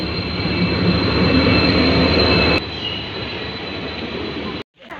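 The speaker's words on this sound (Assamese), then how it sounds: "এইয়া ট্ৰেইন আহি পাই গ'লহি" A train arriving at a station rumbles loudly close by with high metallic wheel squeal, then the noise drops and cuts off abruptly near the end.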